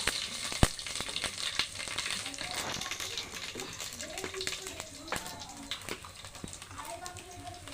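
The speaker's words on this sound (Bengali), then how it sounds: "এখন দিয়ে দেবো পাঁচফোড়ন, আস্তে একটু কমায় নেব।" Panch phoron spices sizzle faintly in hot oil for khichuri, a soft crackling fry with scattered pops that runs under a person talking.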